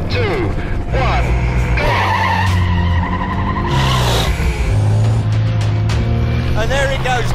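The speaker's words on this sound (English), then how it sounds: "He's really moving down the track, accelerating like a bullet." The 2400-horsepower Volvo Iron Knight truck roars down a speed-record track, its engine note climbing steadily under loud, excited commentary.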